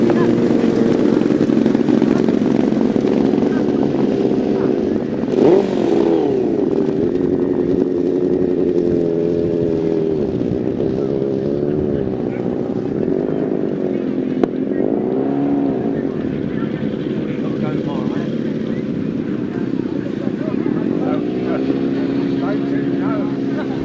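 Right-hand sidecar motorcycles race on a grasstrack, their engines loud and close in a sustained rising and falling howl as they rev through the bends, with a commentator talking over the noise.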